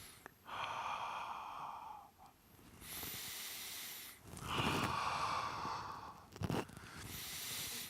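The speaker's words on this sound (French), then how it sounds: "je souffle en effectuant de la buée" Forceful, drawn-out exhaled breaths during a Pilates exercise, several long breathy pushes of air separated by brief pauses, close and fairly quiet, with no talking.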